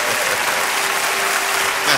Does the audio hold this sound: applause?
yes